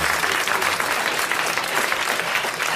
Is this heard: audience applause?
yes